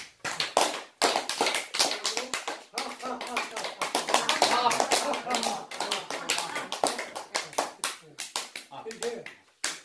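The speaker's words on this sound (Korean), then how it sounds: "한번 때려봐요, 손뼉을." A lecture audience at Daegaksa temple claps hands together in a dense, rapid patter of sharp slaps that keeps going for about ten seconds, mixed with laughter and voices.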